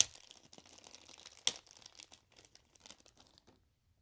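Small plastic bag from a boxed anime figure crinkling and rustling close up, a busy run of crackles with one sharp crunch midway, fading to quiet near the end.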